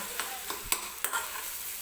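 Coarsely ground peanut powder being stirred into mashed eggplant bharit, with a few soft scraping strokes of a spoon against the pan over a faint background hiss, close and fairly quiet.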